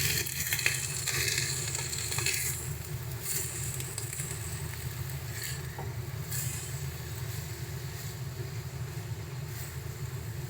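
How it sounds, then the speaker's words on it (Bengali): Bottle gourd and spices being stirred in a hot pan give a steady, close sizzle with scraping stir noises layered throughout and no talking. "সমস্ত কিছু দিয়ে ভালো করে মিশিয়ে নেব এবার এটাকে।"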